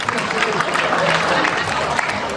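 Dense, steady clapping from a stand-up comedy crowd at a Theo Von show fills the room close and loud, mixed with crowd murmur for a couple of seconds.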